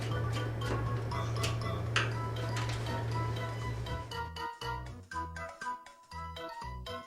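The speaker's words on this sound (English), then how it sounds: "Then close the battery door and tighten the screw." A small screwdriver snaps shut and screws down the battery door of an Angry Birds Air Swimmers toy remote, with soft ticking clicks and faint rattles against a low hum that drops away partway through.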